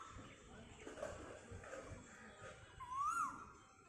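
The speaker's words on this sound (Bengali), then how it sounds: "আমরা তো প্রত্যেকেই জানি এই সময় কোকিল ডাকে স্ত্রী কোকিলটিকে আহ্বান করার জন্য।" An Asian koel calls in a garden on a wet morning after rain, one rising whistled note near the end against faint background murmur and soft voices.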